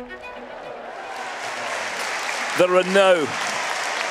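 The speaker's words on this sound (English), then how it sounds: "This arena is going absolutely crazy" A packed show jumping arena in Gothenburg roars with steady applause and cheering throughout, a dense wash of clapping, while a commentator's voice speaks briefly over it.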